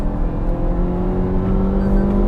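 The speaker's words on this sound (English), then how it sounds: "It's a motor that likes to rev, and it's a motor that you will enjoy revving out." A 2022 Maruti Suzuki Baleno engine revving steadily after a downshift while driving, a close, sustained hum with rising tonal whine and no talking.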